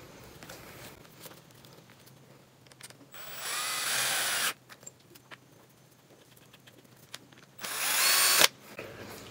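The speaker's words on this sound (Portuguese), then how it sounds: "pra isso eu peguei o auxílio aqui, né, da minha parafusadeira" A cordless screwdriver drives screws while a custom launcher is assembled, two loud whirring bursts of a few seconds each, close by, separated by quieter handling and tapping noises.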